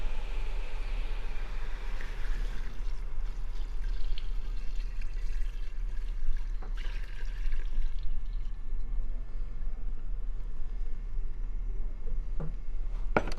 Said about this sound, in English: And then we're gonna add our beef broth.